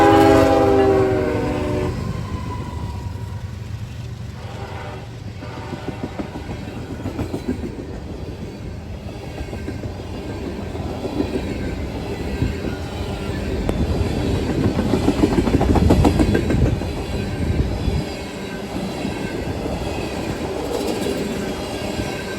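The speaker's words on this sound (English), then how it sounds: "got an empty ethanol train coming" An empty ethanol freight train passes close by, opening with a loud horn blast, then a long loud rumble of rolling wagons with wheel clatter and squeal that swells and fades.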